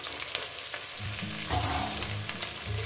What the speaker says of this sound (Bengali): আমি এখানে পেঁয়াজগুলো সুন্দর করে লাল লাল করে ভেজে নেব।